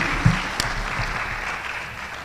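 An audience claps at a live audit launch event for the 2024 financial year, with steady, moderately loud applause filling the hall and one sharper clap standing out near the start.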